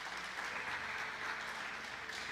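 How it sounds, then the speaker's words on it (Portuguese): Steady, dense applause from a church congregation, sustained clapping throughout with no pauses. "Você pode dar um aplauso a Jesus?"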